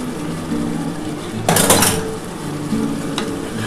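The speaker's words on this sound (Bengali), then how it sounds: "দিয়ে ভালোভাবে একটুখানি নাড়াচাড়া করে ঢাকা দিয়ে দেবো।" Chilli chicken coated with a cornflour slurry sizzles in a pan, a low steady frying hiss with a sharp burst of scraping about halfway and a lighter clink near the end.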